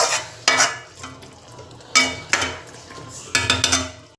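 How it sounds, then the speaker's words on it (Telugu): A spoon scrapes around a pan of spicy curry in a few short, separate bursts, with faint sizzling and quieter stretches in between, heard up close and alone. "ఇట్లా కలుపుకుందాం."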